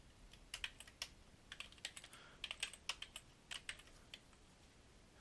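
Keystrokes on a computer keyboard while entering HTML code in a web editor, a quiet, irregular run of light clicks and taps spread across about five seconds, fairly close and heard alone.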